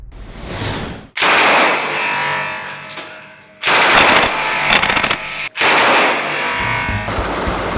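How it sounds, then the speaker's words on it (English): A .45 calibre Thompson submachine gun empties a full magazine in loud, sustained bursts of rapid automatic fire, broken by brief gaps between three or four long strings of shots. "he rattled off a whole magazine of 45 calibre bullets"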